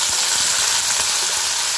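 Onion, green chilli and curry leaves sauté in a hot pan for a raw banana poriyal, giving a steady, close sizzle with faint stirring scrapes and no voices.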